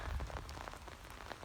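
Rain falls on a beach by sand dunes where people walk dogs, making a brief, soft, steady patter with scattered drop ticks and a low rumble of wind, with no voices.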